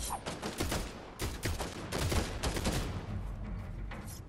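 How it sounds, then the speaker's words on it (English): Rapid gunfire from a weapon in the video game Fortnite, dense overlapping bursts of shots crackling close and loud with no pauses, the volley running continuously throughout. "what are you shooting at them?"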